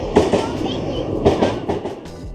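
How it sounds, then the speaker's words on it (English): Trains rumble past at a roadside stop in South Korea, loud rhythmic clattering of wheels over rail joints with repeated thumping beats, close and continuous. "And there are trains passing by."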